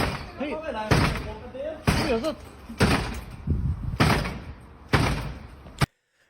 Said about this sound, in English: How many hits has that door taken?